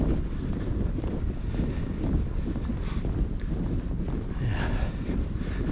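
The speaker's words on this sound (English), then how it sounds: "really funnels the wind through" Wind funneling through Litton Tunnel on a Derbyshire Dales walk, a constant heavy rumbling buffet of gusts against the microphone with no clear talking.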